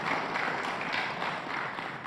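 Dense, steady applause from a large audience at a PDI Perjuangan party gathering, greeting the party's chairwoman; a continuous close wash of many hands clapping with no pauses.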